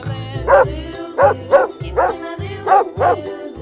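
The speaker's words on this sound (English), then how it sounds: "dog," A dog barks six times in a steady series of sharp, loud yips, close by and alone with no talk.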